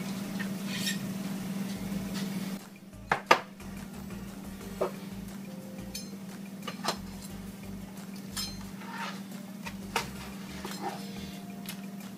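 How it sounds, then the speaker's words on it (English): A knife chops cooked sweet candy ribs between the bones into single servings, giving a few sharp, close knocks spread out over a steady low kitchen hum, with no one talking. "So here we're just going to literally chop them up into single servings, right between the bones"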